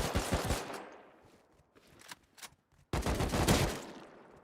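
Bursts of rapid gunfire in a first-person shooter video game, loud close volleys at the start and end with scattered single shots between.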